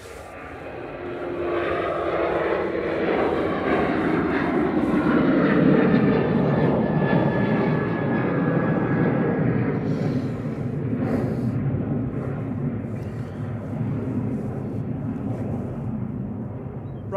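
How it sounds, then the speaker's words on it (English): A Ryanair UK Boeing 737-800 jet takes off from Manchester Airport bound for Oslo Torp, a broad, loud engine roar that swells and holds steady, then slowly eases as the aircraft climbs away. "operated by Ryanair UK, that's GRUKJ, a 737-800, heading off to Oslo Torp"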